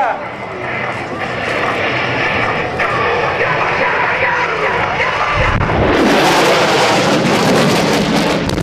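An F/A-18F Super Hornet jet makes a high speed pass at an airshow, a loud continuous roar that swells into a harsh, tearing blast as it goes by, with a public-address announcer talking over it.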